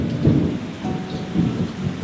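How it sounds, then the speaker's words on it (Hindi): Heavy rain falls in Bhainsrorgarh Wildlife Sanctuary, Rajasthan, with a low, rumbling wash underneath, continuous and enveloping, with no voices. "जैसा कि आप सुन सकते हैं, बारिश भी धीरे धीरे तेज होने लगी है।"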